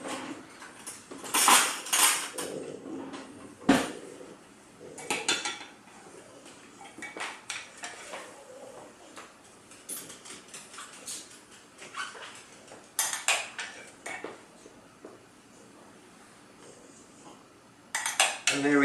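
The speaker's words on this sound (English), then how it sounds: "let me grab a spoon. Spoon over our vinaigrette." A spoon clinks against a bowl and plate while vinaigrette is spooned over a salad of heirloom tomatoes, croutons and skirt steak, producing a series of close, light metallic taps and scrapes with quieter gaps between them.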